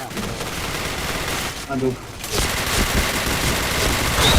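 Rapid, dense gunfire from the Point Blank online shooter game, loud and nearly continuous with a brief lull partway through, while a player briefly exclaims.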